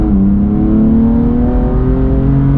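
A BMW M4 CS with an Akrapovic exhaust accelerates hard, its loud, close engine note rising steadily through the revs in one continuous pull, with no talking.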